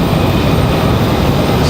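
American Airlines Boeing 737-800 taking off from runway 5 left at Raleigh-Durham, bound for Dallas-Fort Worth, a loud, dense engine rumble that stays constant for the whole brief moment.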